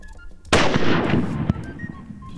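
One sharp, loud rifle shot during an African leopard hunt cracks out and rolls away in a long echoing decay, followed by a faint click.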